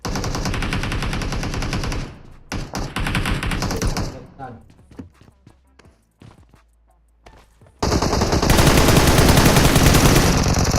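Gunfire in the mobile game PUBG Mobile: loud rapid automatic bursts and single shots, a sparse quieter stretch of scattered shots and footsteps, then a long sustained volley, with players' voices talking over it.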